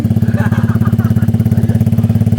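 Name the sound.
Honda Click V4 scooter revving with titanium carbon open pipe exhaust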